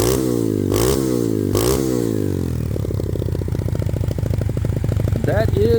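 A motorcycle fitted with a Nibbi Racing quick-twist throttle and throttle cable, its engine revving in a few quick bursts before settling into a loud, close, chugging idle with a slight rattle.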